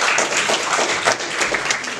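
An audience at a poetry gathering applauds in a dense, steady burst of clapping, loud and close, lasting the whole short stretch without talk.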